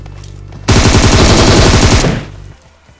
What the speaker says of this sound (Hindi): तभी पीछे से गोलियां चलने की आवाज आती हैं।